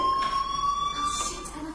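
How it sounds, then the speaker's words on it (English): A fire alarm ringing inside the video game Life Is Strange, a steady, continuous electronic tone held throughout at moderate level. "do you hear that fire alarm?"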